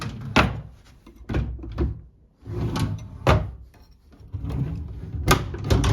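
Wooden desk drawers in a furnished station house flat are pulled open and pushed shut several times, giving irregular sliding rumbles and knocks at close range, one of them a loose bottom drawer on rollers.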